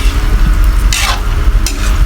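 A spoon stirs Bicol-style chicken curry with coconut milk, bay leaves and crushed pepper in a pan over a steady low sizzle, with a couple of louder scraping strokes across the pot.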